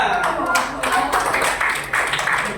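Students in a classroom clapping for a student group, a quick burst of many hands clapping together at close range, mixed with voices chattering over it.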